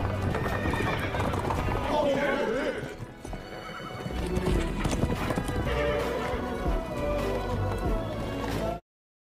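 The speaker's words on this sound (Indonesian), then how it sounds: "Kemudian anak buah dari Xiaopeng datang menjemputnya dengan menggunakan kuda." Horses trot through a film scene, with rapid hoof clip-clops and loud neighs and whinnies mixed in, while a voice narrates over the action.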